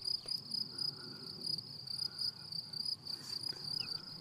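Insects chirp steadily across a spring meadow of wild carnations, knapweed, fennel, wild carrot and arnica, a continuous high, shimmering trill at moderate level with no voices.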